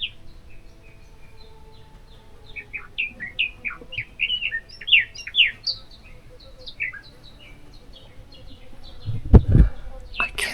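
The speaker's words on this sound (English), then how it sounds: "I finally found the bird that's singing this song." A songbird sings close by in a wet outdoor setting, a rapid series of high chirping notes in bursts, with a brief thump near the end.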